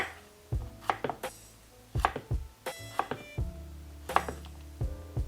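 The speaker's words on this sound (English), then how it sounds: "Start by cutting the ends off them." A knife cuts the ends off radishes on a cutting board, with about a dozen crisp, close chops that come in small irregular clusters separated by brief pauses.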